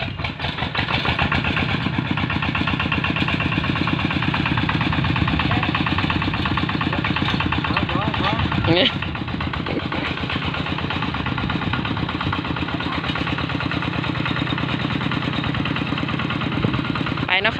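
A vehicle engine idles with a steady, close, rapid chugging pulse that continues throughout, a brief rattle midway, and voices faintly underneath.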